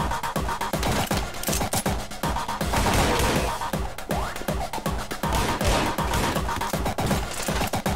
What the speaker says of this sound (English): While I kill some bitches with my gun!